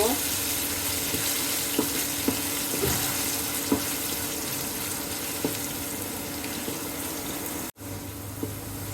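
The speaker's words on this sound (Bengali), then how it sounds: "আলুগুলোকে আমি লাল লাল করে ফ্রাই করে নেব।" Potatoes with turmeric and salt fry in a pan, giving a dense, steady, loud sizzle with occasional small pops, cut off briefly near the end before the sizzling resumes.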